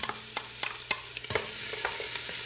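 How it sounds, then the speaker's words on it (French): Finely chopped onions fry in a hot pan, a steady close sizzle broken by scattered crackles and pops, with occasional utensil stirring clicks; no one speaks. "Et je vais faire revenir mes oignons."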